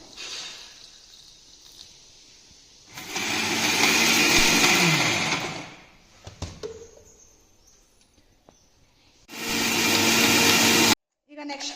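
A mixer grinder grinds ingredients with water for a village brinjal dish. It whirs loudly in two long runs with a quieter stretch of clatter between them.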